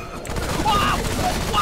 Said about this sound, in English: You can't just baseball bat a bomb at me!